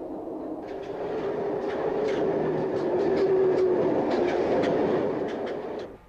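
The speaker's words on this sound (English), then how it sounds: "we can hear the blowdown valves actuating." Steady rumble of a train with repeated short hissing bursts of air, like brake valves venting, spaced through a few seconds.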